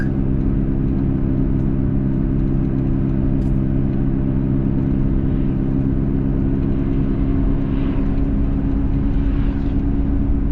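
A garbage truck driving on the road ahead, heard from a following vehicle as a loud, constant low engine and road rumble that stays even throughout with no talking.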